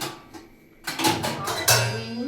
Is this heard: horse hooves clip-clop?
no